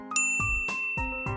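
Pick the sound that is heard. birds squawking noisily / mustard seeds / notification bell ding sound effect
notification bell ding sound effect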